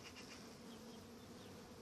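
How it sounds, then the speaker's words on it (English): Honeybees hum as a steady, dense drone at an open hive during an early spring inspection, continuous and close with no voices over it. "Bees are quite calm and relaxed out here, so that's good."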